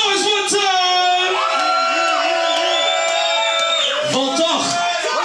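Crowd at a rap battle event cheering, whooping and yelling loudly and continuously, with a host's voice shouting over the noise throughout.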